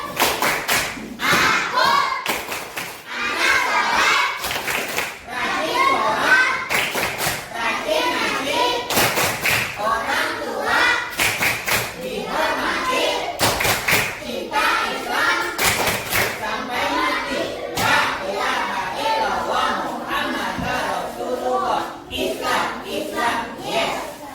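Children in a classroom prayer lesson perform the rhythmic 'tepuk anak sholat' clapping chant, sharp hand claps and thuds landing in patterned bursts over their steady group voices for the whole stretch.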